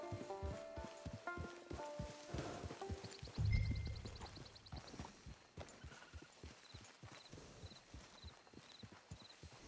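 Steady clip-clop of horse hooves walking in Red Dead Redemption 2, regular and fairly close, with musical tones early on and a brief low thump midway.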